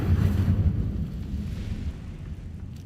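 Incendio fire spell cast in Hogwarts Legacy: a deep, rumbling whoosh of flame, loud and close, swelling at once and then slowly fading over about three seconds.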